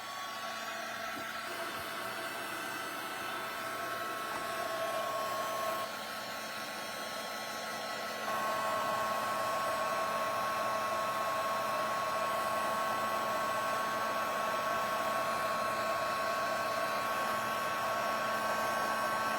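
A hair dryer blows steadily and loudly at close range over a vinyl record painted for a mixed media project. The airflow stays continuous throughout and grows noticeably louder partway through.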